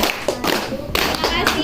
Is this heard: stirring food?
no